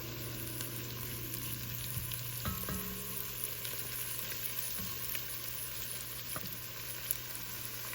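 Garlic, celery and carrot sizzle steadily in butter in a pan on a stovetop over medium heat, a close, continuous crackle with a few soft stirring knocks and no talking.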